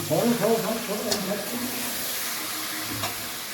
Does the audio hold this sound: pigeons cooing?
no